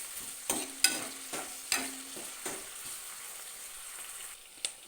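Tomatoes and cashews fry in a pan for a chicken gravy, a soft steady sizzle broken by several sharp scrapes and clanks of a spoon stirring against the pan, close and clear with no talk.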